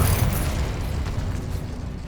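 A Confringo explosion spell going off in Hogwarts Legacy, a loud, sustained rumbling blast with crackling mechanical debris filling the whole moment, no voices.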